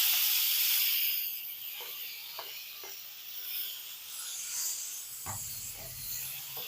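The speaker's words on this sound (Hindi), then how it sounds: "ये देखें लहसुन हमारा गोल्डन हो गया। अब इसमें मैं चिकन डाल रही हूँ।" Chicken pieces dropped into a pan of golden fried garlic set off a steady, bright hissing sizzle, with a few soft clatters and bumps near the end.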